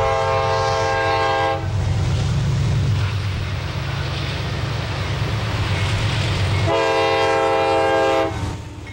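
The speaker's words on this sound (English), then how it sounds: "Standard power on the juice train is two General Electric Dash 8s." A CSX juice train powered by two General Electric Dash 8 locomotives rumbles loudly past on the Bone Valley line in West Florida, its horn sounding a long blast at the start and again near the end over steady rail noise.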